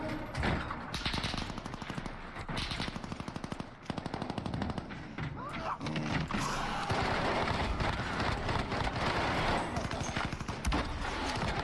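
Rapid automatic gunfire from the video game Warzone rattles in long, dense bursts, loud and close, with more scattered shots and battle noise filling the stretch.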